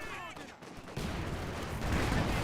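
Maxim machine gun fire in Company of Heroes, a dense continuous burst of rapid shots that swells louder partway through, packed with battle noise and partly under talk.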